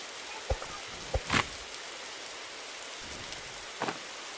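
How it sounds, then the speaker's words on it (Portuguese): Rain falls in a video game, a faint steady hiss of drops with a few sharp louder taps and crackles scattered through it, no voices present. "Ô, chuva é a pior coisa que tem no jogo."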